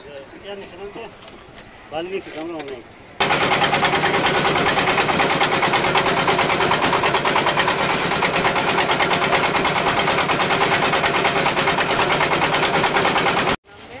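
A boat's motor at Bholaganj, Sylhet, catches abruptly after a few seconds of nearby voices, then runs as a loud, close, rapid chugging drone before cutting off at the end.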